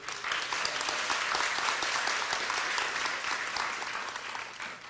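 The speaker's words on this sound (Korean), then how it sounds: "한분한분 소개해 드릴 때마다 큰 환영의 박수 부탁드리겠습니다." Warm, steady applause from an audience welcoming guests as they are introduced at a welfare policy forum, a dense continuous clatter of many hands lasting throughout, fading slightly toward the end.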